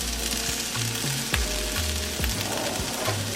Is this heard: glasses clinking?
no